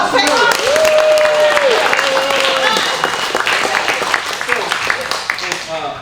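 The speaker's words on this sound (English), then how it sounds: "Big round of applause." Audience applause at a movie awards show, steady clapping filling the room throughout and tapering slightly toward the end, with voices and cheering mixed in over it.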